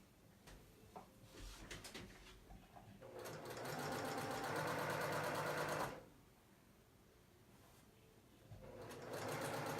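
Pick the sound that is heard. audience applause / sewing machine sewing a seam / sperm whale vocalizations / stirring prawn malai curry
sewing machine sewing a seam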